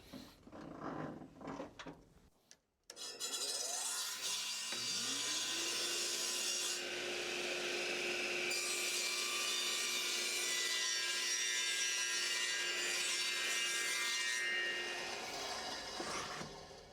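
An old radial arm saw spins up with a rising whine and cuts a piece of wood for a box lid, a steady loud buzz holding for several seconds before winding down.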